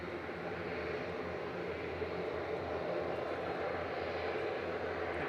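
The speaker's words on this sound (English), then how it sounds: "This is an ATR 72600" An ATR 72-600 turboprop lines up on the runway at Manchester Airport, a faint, distant, steady engine drone with a broad hiss that stays constant and unbroken.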